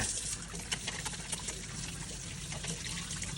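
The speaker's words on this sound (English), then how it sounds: "Wash my hands before we start." Hands being washed under a running kitchen tap, a faint, steady hiss of flowing water with small irregular splashes and rubbing throughout.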